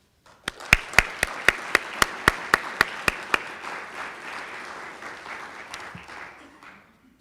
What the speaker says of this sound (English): I have a warm applause for Daniel and Daryl